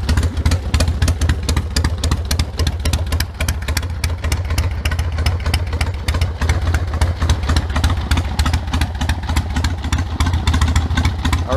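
A 1973 Harley-Davidson Ironhead motorcycle engine idles close by, a loud, steady, lumpy rapid beat of firing pulses with mechanical clatter, heard alone without speech.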